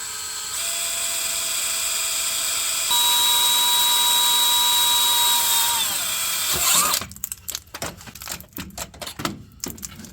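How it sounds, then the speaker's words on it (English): A power drill bores a hole for a Glowshift gauge install, a steady high-pitched whine held for several seconds with a pitch rise midway, then dropping into rough, intermittent grinding bursts as the bit cuts through thick material. "I'm trying to drill it as straight as I can"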